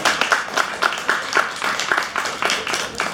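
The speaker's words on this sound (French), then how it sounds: "Est-ce qu'on peut applaudir cette belle mission?" Audience applause at a Montreal Creole-month book fair event, scattered claps forming a steady moderate patter for about three seconds, with faint voices mixed in.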